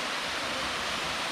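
Suwat Waterfall in Bali roaring as a steady, dense rush of falling water, loud and close, with no talking.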